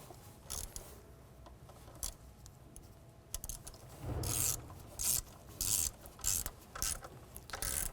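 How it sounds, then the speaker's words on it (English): A ratchet wrench tightens an alternator bolt on a Jeep Liberty engine, giving short bursts of close, rasping clicks with pauses between strokes. "we're going to start by tightening down the front bolt here first"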